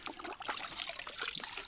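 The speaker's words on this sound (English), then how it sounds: "Make sure your bucket's over where it's going to drip." Water trickles and drips faintly into a bucket during gold-mat cleanup, a soft continuous splashing patter heard close by.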